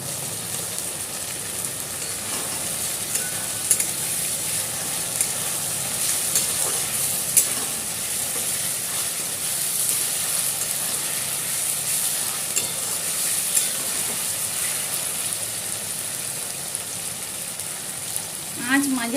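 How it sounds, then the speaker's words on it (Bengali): Chopped tomatoes frying with ginger and garlic in a pan for dhokar dalna, a continuous close sizzle with stirring scrapes and small pops, steady for the whole stretch, no talk over it. "এবার টমেটো কুচিগুলি দিয়ে দেব।"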